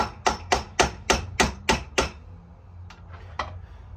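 Seven sharp metal hammer taps on the end of a bolt, driving truck U-joint caps into place, evenly spaced and loud, followed by three fainter taps after a pause.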